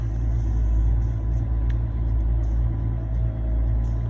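A 2020 Chevrolet Silverado with the 3.0L Duramax diesel idles steadily just after a cold start in sub-zero weather, a loud, close, continuous low rumble with a slight uneven shake and no talk.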